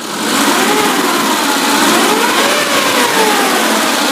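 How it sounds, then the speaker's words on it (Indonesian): A 2005 Suzuki Futura van engine revs steadily upward to 4000 RPM and holds a high, smooth drone, loud and close, with no talking over it. "Saya geber sampai RPM 4000, suaranya masih tetap halus, masih normal."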